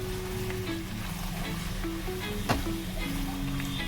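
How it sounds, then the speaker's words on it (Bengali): Food sizzling steadily in a pan on a gas stove after salt is added, with the dish being stirred; a continuous close frying hiss with light scraping and one sharp clatter, no voices. "এবারে নুনটা অ্যাড করে দিলাম, দিয়ে একটু ভালো করে নেড়ে"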